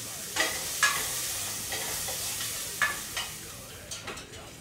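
Onion and garlic sauté in melted butter in a pan. A soft sizzle runs underneath, and several sharp clicks and scrapes of stirring land at irregular intervals. It is close and fairly quiet, with no talking.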